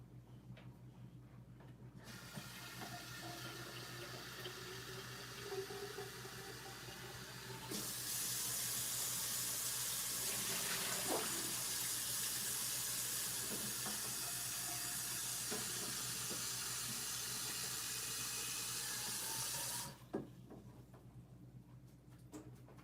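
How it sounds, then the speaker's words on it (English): A water tap running while a repair piece is rinsed, a steady hissing rush that starts, grows louder and fuller midway for about twelve seconds, then cuts off near the end. "I'm gonna rinse it"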